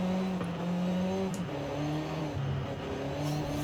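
Hot hatch racing in Forza Horizon 5, heard from the cockpit view: a steady engine drone shifting pitch as the car accelerates and changes gear, loud and continuous with no talk.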